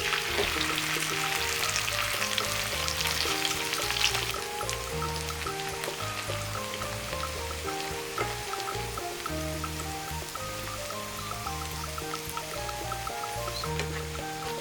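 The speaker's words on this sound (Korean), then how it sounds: "전을 뒤집고 3분 정도 튀기듯이 부쳐주면 완성입니다." Steady oily sizzling and crackling of a minari (water dropwort) pancake pan-frying in oil, continuous and close, with quiet background music.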